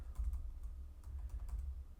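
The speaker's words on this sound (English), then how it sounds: "If I can just type" Quiet, close tapping on a computer keyboard, a quick irregular run of keystrokes over a low steady hum with no talking.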